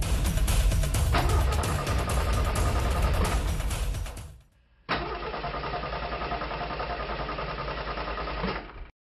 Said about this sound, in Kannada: ಗಾಡಿ ಸ್ಟಾರ್ಟ್ ಆಯ್ತಲ್ಲ ಯಜಮಾನ್ರೆ